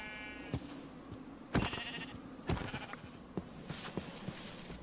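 Sheep bleating in the Minecraft video game, several short nasal bleats spaced a second or so apart over a steady background hum, fairly close and clear with no talking.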